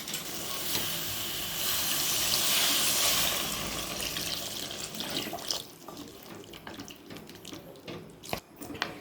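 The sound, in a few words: pouring water into cooking pot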